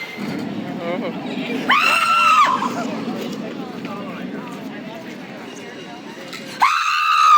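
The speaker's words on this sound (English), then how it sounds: "It's more like a yell zone than a scare zone." Costumed actors in a Conjuring-themed scare zone at Six Flags Great Adventure during FrightFest let out two long shrill screaming yells, one near the start and one at the end, over a murmuring crowd and nearby people talking.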